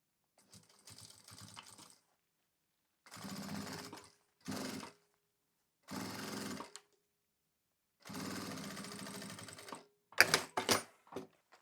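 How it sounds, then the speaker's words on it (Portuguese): A sewing machine stitching fabric lining for an insulated lunch bag, running in several separate bursts of rapid mechanical chatter with pauses between, close and fairly quiet, ending in a few sharper short clacks. "vou colocar direito com direito, e aí eu vou costurar agora aqui com a margem do calcador"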